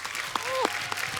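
A studio audience on a TV comedy show claps for cricket champions, a brief burst of crowd applause with a few sharp claps and faint whistling over it.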